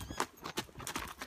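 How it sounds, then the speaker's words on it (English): A horse trots along a bush trail, its hooves clip-clopping in a quick, even rhythm, close and clear. "So he's trotting."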